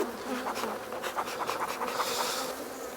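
Honey bees buzz in a dense, agitated drone from a hive with its brood nest split open during a winter inspection, a steady close hum with no talking.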